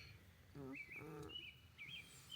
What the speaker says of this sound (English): It's pleasant to hear all the birds chirping